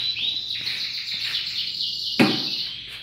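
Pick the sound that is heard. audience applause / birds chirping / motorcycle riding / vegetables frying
birds chirping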